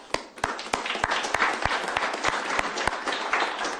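Applause at a regional police services board meeting: sparse, individual claps ringing out clearly over a softer bed of general clapping, moderately loud and fairly close, without talk.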